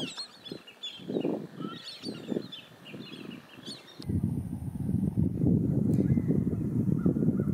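Birds call repeatedly in the distance in a swamp with light snow falling, over a steady background hiss, growing more continuous toward the end.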